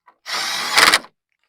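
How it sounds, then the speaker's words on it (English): An impact wrench fastening a nut on a fiberglass truck hood gives a single short whirring burst ending in a few quick rattling hammer hits, close and loud, with no talk. "when you put a fiberglass hood on that you don't just crank down with the impact"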